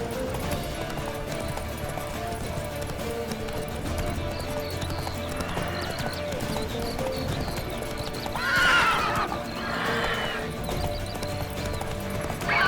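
Hooves of the horse Roach clip-clopping at a walk, steady and fairly close over a busy background, with a whinny rising near the middle.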